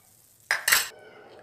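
Two quick scraping clinks of a ladle against a pot as katachi aamti, a Marathi lentil curry, is served into a bowl, short and close, with quiet background afterward.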